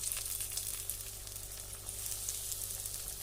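Chops frying in hot oil give off a steady, dense sizzle that stays close and even throughout, with a faint low hum beneath and no voices.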